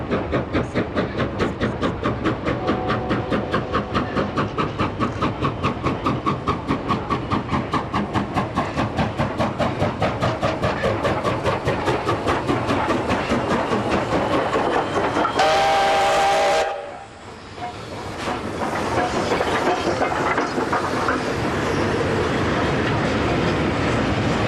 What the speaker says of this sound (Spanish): la aparentemente inacabable procesión de trenes de mercancías con locomotoras QJ vuelve a aparecer otra vez